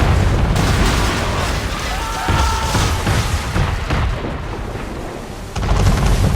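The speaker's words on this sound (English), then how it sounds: "We're under attack! Man of war's firing!" Cannon fire from a man-of-war warship in the video game Assassin's Creed III: a loud, dense barrage of booms and blasts rolls on continuously, with heavy low rumble and crackling debris throughout.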